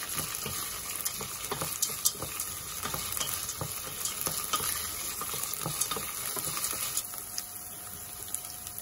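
Lentils for harira sautéing in a pan, a steady close sizzle and frying crackle with scattered light stirring clicks, no voices.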